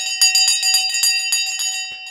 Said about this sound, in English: We're going to ring the bell in 5, 4, 3, 2, 1.